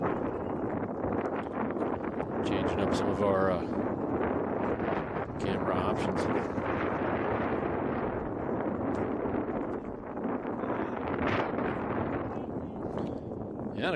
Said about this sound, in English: Wind continuing to gust.